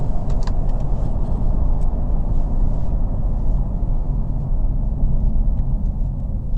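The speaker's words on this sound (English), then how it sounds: "And the vehicle has started back up." A car being driven in neutral while its engine restarts, heard as a loud, steady engine and road rumble close to the cabin with a brief jangle near the start and no talking.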